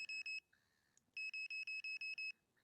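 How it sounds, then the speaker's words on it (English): A carp fishing bite alarm bleeps in short, loud, evenly spaced electronic tones, a few at first, then after a brief pause a longer run of about seven regular bleeps as its sensitivity setting is lowered. "So the more bleeps you have, the less sensitive the alarm is getting."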